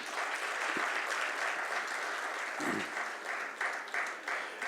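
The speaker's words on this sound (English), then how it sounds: "A very big round of applause to all of you." Sustained applause from a large audience at a hospital inauguration event, dense steady clapping filling the hall throughout, with a few louder individual claps near the end.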